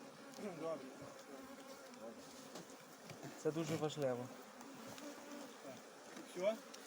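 Honey bees buzz steadily around bee packages at an apiary, a dense droning hum with individual bees passing close, while a person talks over the swarm.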